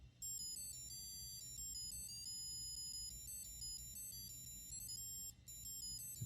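A 1994 Armitron Looney Tunes musical watch beeps out its theme melody as thin, high electronic tones. The quick steady run of notes is faint and plays alone over low background hiss.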